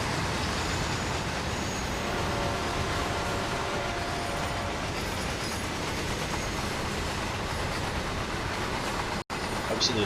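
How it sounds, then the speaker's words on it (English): A heavy-haul CSX freight train in a train-simulator game rumbles steadily for the whole stretch, a dense, continuous roar with faint clickety-clack, loud and close, with only a brief dropout near the end. "Absolutely love the sound of the train."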